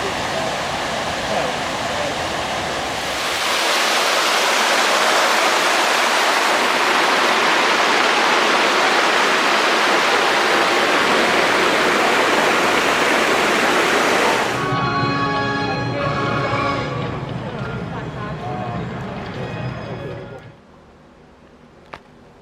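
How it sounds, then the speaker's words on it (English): A backwards waterfall at EPCOT gives off a loud, steady broadband rush of falling water, close and constant for most of the stretch, then gives way to quieter ambient crowd sound near the end. "who doesn't love the backwards waterfall?"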